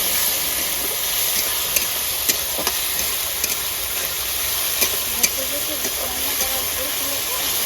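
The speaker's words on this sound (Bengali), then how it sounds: "একটু 3 মিনিট নেড়ে চেড়ে নেবো ভালো করে, আদা রসুনের কাঁচা গন্ধটা যাতে চলে যায়" Continuous hiss of ginger, garlic and green chilli paste frying in oil, with sharp clicks and scrapes of a spoon stirring the pan at irregular intervals.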